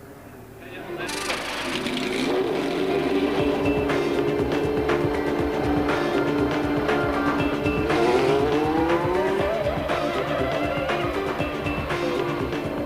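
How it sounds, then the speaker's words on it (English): Minardi two-seater Formula One cars racing at Donington, a loud continuous engine roar with shifting pitch as cars pass, close and sustained throughout. "The European Minardi team had no less than 5 two-seater Formula One cars at Donington"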